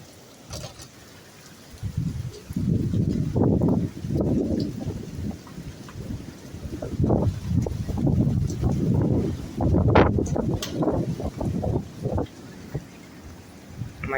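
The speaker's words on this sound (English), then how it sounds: "It's pretty windy" A strong storm wind roars and buffets against a microphone in heavy gusts that rise and fall, with low rumbling under the blasts and no voices.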